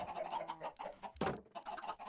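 Several Minecraft chickens cluck rapidly in a dense, overlapping chorus, near and moderately loud, with one sharper squawk midway.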